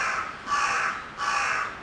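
A crow in Baku, Azerbaijan gives two loud, harsh caws close by, each lasting about half a second with a short gap between them.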